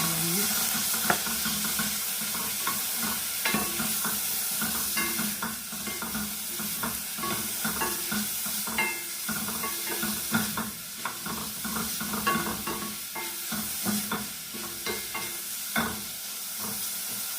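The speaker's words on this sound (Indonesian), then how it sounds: "masukin ini daging ayamnya" Chicken meat sizzles and hisses steadily in a hot pan after shallots, with repeated scraping stirs of a spatula running throughout, close and loud with no talking.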